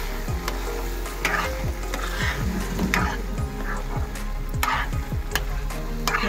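Grated carrots fry in a pan for carrot halwa with a little food colouring, giving a steady close sizzle broken by repeated scraping stirs of a spatula.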